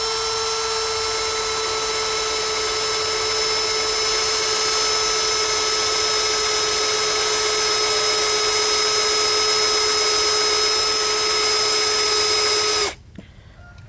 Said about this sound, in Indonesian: Selanjutnya kita akan mengebor besi dengan ketebalan 1 cm.